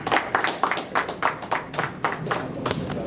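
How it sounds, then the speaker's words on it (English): An audience at a school football league launch event claps for a speaker, a moderately sized crowd producing irregular, fairly close applause that stays even and steady. "Welcome him with a round of applause"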